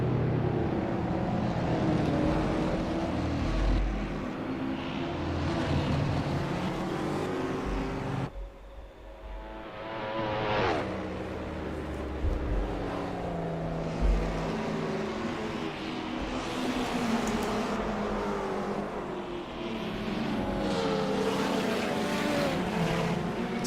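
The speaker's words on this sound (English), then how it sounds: "Sound of those ATCC cars" ATCC Group A race cars in a sim racing game at Bathurst roar past with loud engines revving and shifting, several passes sweeping by close, a brief lull midway before the noise builds again.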